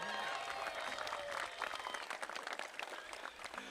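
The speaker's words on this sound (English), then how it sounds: "So would you give a big round of applause to Vince Carter?" Dense crowd applause fills a press conference room, steady and loud at first, then thinning into scattered claps with a few cheers.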